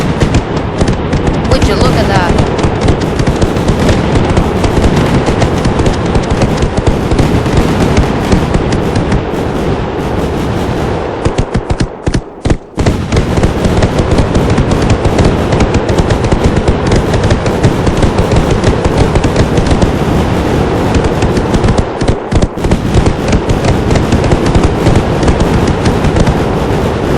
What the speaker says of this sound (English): Let's hear some fireworks from the game itself